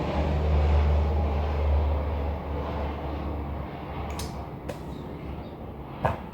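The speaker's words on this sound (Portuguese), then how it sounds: "tem um maldito helicóptero passando bem em cima da gravação" A helicopter passes over a home recording setup, heard as a loud, steady low rumbling drone that slowly eases off over several seconds, with a few sharp clicks near the end and no talk.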